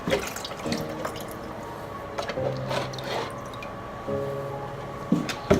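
Water runs steadily from a tap nearby, splashing into a sink with occasional drips and gurgles, no talking.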